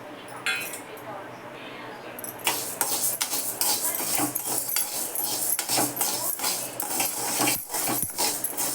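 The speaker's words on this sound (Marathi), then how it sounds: "हे थोडे भाजून घेते" Dry mung beans rattle and scrape against a metal pan as they are stirred and roasted, with repeated clinks and rasping strokes close by.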